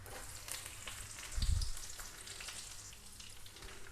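Garlic cloves and tempering spices frying in a little oil for tomato dal, a soft steady sizzle and crackle with a brief thump of stirring or adding midway, close but quiet.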